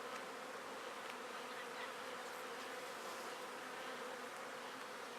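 Honey bees crowd an outer frame of a beehive and give off a dense, steady, close buzzing drone with no talking.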